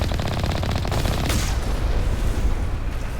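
Rockets and gunfire aimed at the player in a Mass Effect Legendary Edition firefight, a dense, loud rattle of rapid shots with a whooshing burst partway through, continuous and close, no talking.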